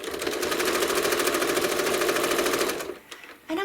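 Home sewing machine stitching a quilt, a steady fast mechanical whir with rapid needle ticking that runs for nearly three seconds before stopping briefly and starting up again.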